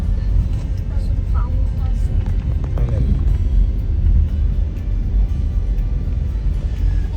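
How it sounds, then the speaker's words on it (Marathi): Road traffic in a Marathi city on the way to a cinema screening: a steady low rumble of passing cars and engines, continuous and fairly loud throughout, with faint voices mixed in. "चला बऱ्यापैकी ट्रॅफिक आहे आपल्याला"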